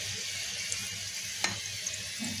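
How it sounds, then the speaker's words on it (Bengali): Soft, steady sizzle of vegetable rolls frying gently over low heat in a pan, with a faint click or two and no talking. "এইভাবে আস্তে জালে এরকম করে উল্টে পাল্টিয়ে বেশ কড়মড়ে করে ভাজতে হবে"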